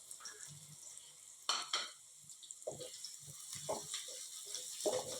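Cumin seeds frying in oil in a pan for an egg korma, soft intermittent sizzling with scattered stirring and clinks of utensil against pan, quiet and close with no talk.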